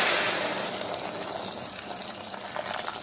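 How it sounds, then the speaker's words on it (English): Boiled water poured into a pot of braised rice with onion while cooking, a continuous splashing gush that is loudest at the start and settles into a steady pour. "Add boiled water."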